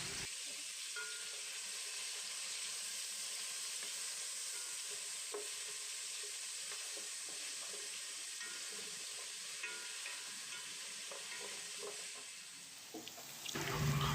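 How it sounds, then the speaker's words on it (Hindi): Chicken pieces, already partly cooked in yakhni broth, fry in hot oil for pulao, a continuous close sizzle with occasional stirring clinks and no voices. "अब इस ऑयल में आप चिकन को डालेंगे जो हमने यखनी में थोड़ा सा पकाया था और इस ऑयल में थोड़ा सा इसको फ्राई"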